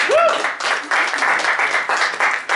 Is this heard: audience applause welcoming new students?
yes